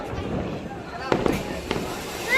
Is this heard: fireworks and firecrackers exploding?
yes